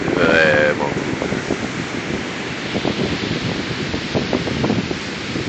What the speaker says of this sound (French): Il y a un petit vent, mais les gens viennent marcher quand même ici.